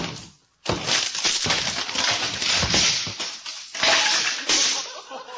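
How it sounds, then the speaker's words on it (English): A radio sound effect of something being broken up and demolished opens after a brief pause, a dense run of smashing, crashing and shattering impacts that keeps up loudly to the end. "you first heard something being broken up, damaged, demolished"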